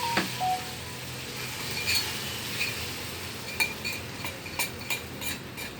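Pickle masala for Idache lonche being spread over the pieces with a spoon: soft stirring and scraping with light clinks of metal on a dish, close and steady, growing busier toward the end, with no talking.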